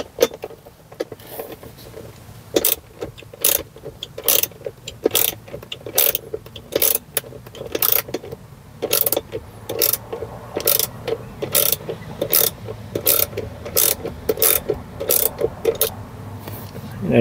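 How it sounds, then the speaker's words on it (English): Screws being backed out of a Tesla Model 3/Y screen swivel mount with a hand tool: a rapid series of sharp clicking ratchet ticks, close and fairly loud, repeating steadily with brief pauses. "So I got these two screws out."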